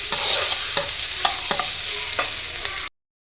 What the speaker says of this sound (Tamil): நல்லா ப்ரௌனிஷாக வதங்கணும்.